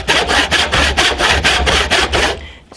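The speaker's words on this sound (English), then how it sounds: "I'm just going to back my saw right up against the knife wall." Hand saw cross cutting timber for a timber-framed workbench, about ten rhythmic back-and-forth strokes rasping close and loud before stopping.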